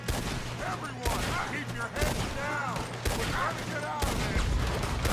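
Cannon fire in the video game Red Dead Redemption 2, heavy booms landing roughly once a second in a steady barrage over a continuous rumble, with voices speaking under the blasts.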